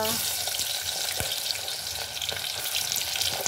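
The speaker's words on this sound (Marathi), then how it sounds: "आता कांद्याला आपल्याला परतवायचं आहे, परतवून घेऊया" Onion sautés in hot oil with whole spices in a pan for a chicken dish, a dense continuous frying hiss that is close and fairly loud, with occasional stirring clicks and no talking.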